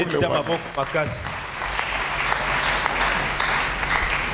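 A church congregation applauds loudly during a sermon, with a brief voice at the start before steady, dense clapping and cheering fill the rest of the clip.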